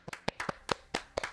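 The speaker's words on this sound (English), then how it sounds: "Let's give them a round of applause." A few distinct, close hand claps in an uneven rhythm, about six or seven sharp slaps with short gaps between them, quiet overall and without any crowd behind them.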